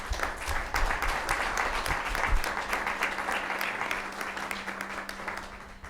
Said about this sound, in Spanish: démosle un fuerte aplauso porque hoy es su día